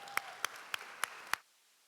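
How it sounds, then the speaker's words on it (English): Five sharp, evenly spaced hand claps ring out in a hall, saluting museum staff at a healing-champions event, then stop abruptly into quiet. "So I want you to help me in giving them a round of applause."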